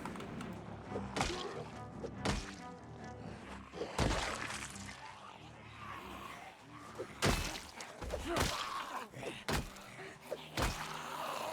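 Repeated hard thwacks as a wrench strikes zombies in Project Zomboid, a dozen or so blows landing at an uneven pace, sharp and close amid rustling and scuffling.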